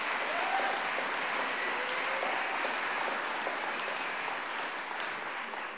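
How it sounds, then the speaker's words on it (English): Audience applause fills an awards ceremony hall for writers, a dense, steady wash of clapping that holds loud and even for several seconds before easing slightly at the end. "Yeah, that's right, you clap."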